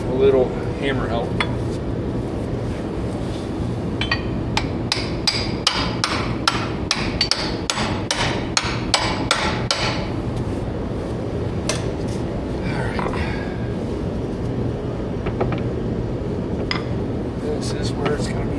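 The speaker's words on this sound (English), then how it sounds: "A little hammer help." Hammer blows on a hydraulic line fitting being fitted to an A4T, a bright metallic series of rapid taps and clinks in bursts, near and loud, with a brief spoken comment.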